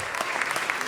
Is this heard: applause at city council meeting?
yes